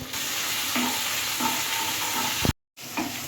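Garlic, ginger, tomato and green chili fry in a pan with a little salt, giving a steady close sizzle with occasional stirring scrapes and a brief cut to silence near the end.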